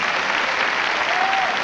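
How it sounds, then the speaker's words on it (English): A church congregation at a 1990 sermon gives a full round of hand clapping for a visiting evangelist, a loud, continuous roar of many hands filling the whole moment. "Give him a good hand clap."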